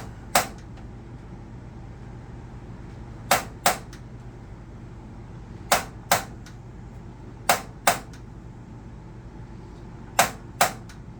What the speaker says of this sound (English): using the striker on the left hand side to light it